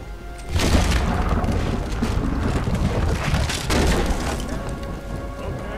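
A deep, booming blast in Red Dead Redemption 2 bursts out with crackling, splintering debris, then a second heavy rumble follows amid noisy, wind-like roar.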